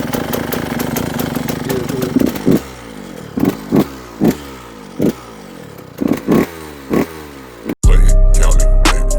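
A Yamaha YZ125 two-stroke motorcycle engine warming up, running close and loud with a rough, clattering idle and repeated short revs in a regular rhythm, ending abruptly in a different, steady loud noise.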